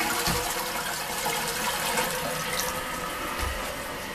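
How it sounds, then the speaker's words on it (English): Water runs steadily from the faucet on top of a Japanese toilet tank after a flush, a continuous close splashing gush with no voices. "when you flush the toilet, which I will do shortly, the water will start running"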